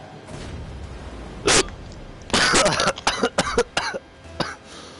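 Several coughs from a person in a loud, clustered burst, with one isolated cough first, then a rapid run of harsh coughs and a fainter one at the end, heard alone without talk.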